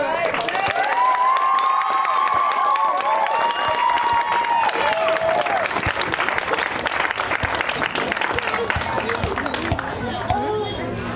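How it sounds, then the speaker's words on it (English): Applause from an audience honouring a girls' soccer coach at a youth championship awards ceremony, dense steady clapping with cheering and crowd chatter throughout, loud and close. "let's give a special round of applause to your coach"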